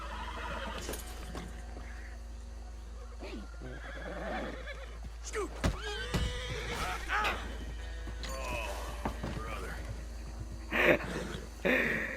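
A horse in Red Dead Redemption 2 whinnies several times amid clip-clopping hooves and sharp crashes, with game noise in the background.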